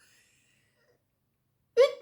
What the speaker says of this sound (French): je touche le papier, j'éternue